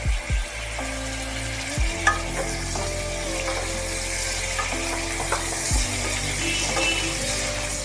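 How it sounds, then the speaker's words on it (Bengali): Potatoes fry in a pan with a steady sizzle while a spoon stirs them, scraping and knocking in several distinct strokes, close and moderately loud, with no talking. "আলুটা কিন্তু একটু লাল লাল করে বেশ একটু মচমচে করে ভাজতে হবে।"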